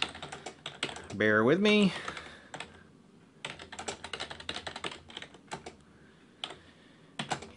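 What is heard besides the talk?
typing an access list command on computer keyboard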